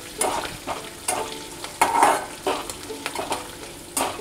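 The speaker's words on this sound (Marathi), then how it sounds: "हे छान परतवून घेऊ जेणेकरून या डाळींचा कच्चेपणा कमी होईल." Lentils being stir-fried over a low flame in a pan, with scraping, stirring strokes that come in repeated bursts along with a light sizzle, close and alone with no voices.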